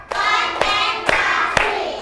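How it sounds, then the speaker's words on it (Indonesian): A classroom group claps in unison during a counted rhythm game, four sharp synchronized claps spaced about half a second apart, with a continuous chorus of voices chanting between them. "yuk kasih tepuk tangan untuk kelompok 3"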